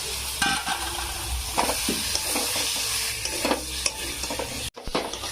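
Potatoes sizzle and fry in a pan with homemade garam masala while being stirred. The hiss stays steady and close, with scraping stir sounds and a brief cutout near the end.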